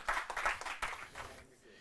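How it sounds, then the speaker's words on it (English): Audience applause at a university law quiz contest between the University of Ghana and UPSA: a short burst of dense clapping that swells and then fades within about two seconds. "A round of applause for them."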